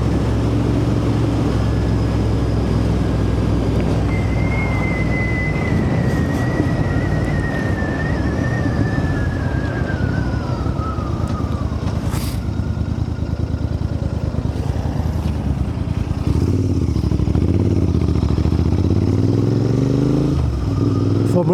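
Royal Enfield Interceptor 650 motorcycle riding out on moorland roads, a steady loud engine drone with rushing wind buffeting throughout, a gear change rising and falling in pitch midway.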